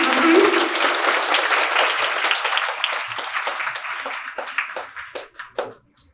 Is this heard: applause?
yes